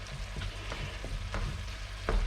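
Minced meat with pasta frying in a pan, with a steady low sizzle and a few distinct scraping stir strokes, close and without speech.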